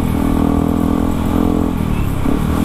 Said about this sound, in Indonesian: Tapi masih knalpot standar, belum ganti. Suaranya merdu nih motor.